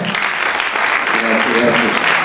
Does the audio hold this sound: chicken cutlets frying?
no